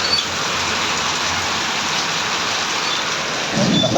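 Heavy tropical downpour with thunder, a dense steady roar of rain beating down close by, with a low rumble swelling near the end.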